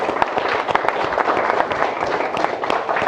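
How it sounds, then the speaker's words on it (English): Wedding guests clap for the bridesmaids in a dense, steady round of applause from a room full of people, fairly close and lasting throughout. "So a round of applause for the bridesmaids,"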